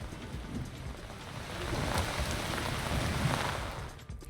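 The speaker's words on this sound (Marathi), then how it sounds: "यवतमाळच्या वणीमध्ये जोरदार पाऊस पडला" Heavy unseasonal rain falls in Wani, Yavatmal, as a steady dense hiss of drops on surfaces that swells slightly midway, loud and continuous with no voices.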